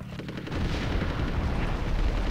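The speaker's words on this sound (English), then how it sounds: "These bombs are quite easy to avoid now that you know how they work." Bombs exploding in Conker's Bad Fur Day: dense, continuous booming rumble with overlapping blasts, loud and close, filling the whole stretch without talk.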